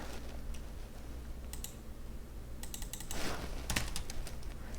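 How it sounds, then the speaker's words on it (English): Fingers tap on a computer keyboard in irregular bursts of quiet clicks, with a pause and then a denser flurry of keystrokes over a faint background hum, close by and with no talking. "I'm typing in the console and nothing is happening."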